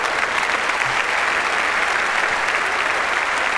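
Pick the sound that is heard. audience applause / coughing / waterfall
audience applause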